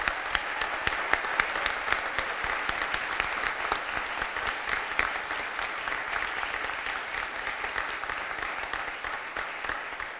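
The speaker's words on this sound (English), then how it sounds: "and a big round of applause for them" A political gathering applauds two supporters being thanked after an endorsement win, a long, steady run of crisp clapping from a sizeable crowd that holds evenly throughout, with no speech over it.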